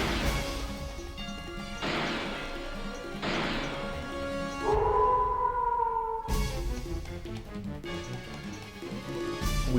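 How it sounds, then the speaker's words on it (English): Roars of a beast in the PS1 video game Suikogaiden, heard as harsh crashing bursts repeating every couple of seconds, with a wavering howl-like cry in the middle, loud and with no talk. "Every so often, the sound of Elsa's gunshots and the beast's roars echo through the night"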